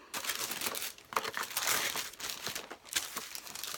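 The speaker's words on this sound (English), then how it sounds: "Then you have the card and tissue paper, which I'm going to open up." Tissue paper inside a beauty subscription box crinkles and rustles as it is unfolded, close and continuous soft crumpling with sharper crackles, no talking.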